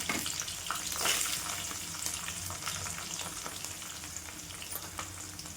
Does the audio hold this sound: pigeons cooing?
no